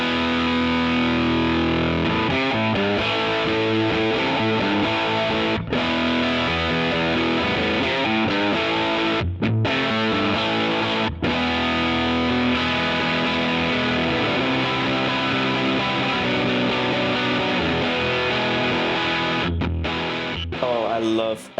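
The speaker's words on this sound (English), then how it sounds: "King Fuzz and it sounds like this." An electric guitar is played through a Bigfoot Engineering King Fuzz pedal, giving a thick, heavily saturated fuzz tone that stays loud and dense throughout, broken only by a few brief pauses between phrases.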